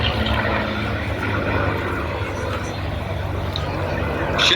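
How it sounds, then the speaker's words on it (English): A Merlin engine drives a vintage propeller fighter aircraft at an airshow, giving a steady, loud, rough drone with deep low rumble throughout, faint voices mixed in beneath it. "That's the really special sound of the Merlin replica of another aircraft called the Marionette."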